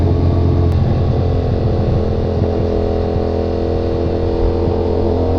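A CFMOTO 450SR motorcycle cruises on the Skyway, its engine holding a steady, loud, droning hum under constant wind rush, with no change in pace.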